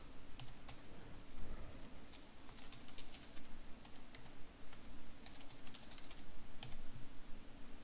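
Computer keyboard typing while a MySQL password is entered on a Windows PC, steady close clicking of keys over a constant low hum, with no talking.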